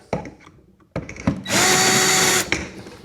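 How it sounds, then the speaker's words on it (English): A power drill whirs steadily for about a second while starting a hole for an XTR130 tandem seat, preceded by a few short clicks and bursts of handling noise, close and loud, with no talking. "And we're not going to drill all the way through here."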